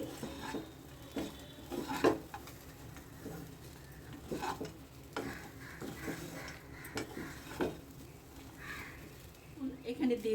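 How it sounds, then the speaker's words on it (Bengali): Oats being stirred in a pot together with fried cashews and raisins, giving soft scraping and light clinks of a spoon against the pan that come in short bursts. "এই যে ভেজে রাখা কাজু কিশমিশগুলো দিয়ে এটাকে ভালো করে একটু নেড়ে চেড়ে দিচ্ছি"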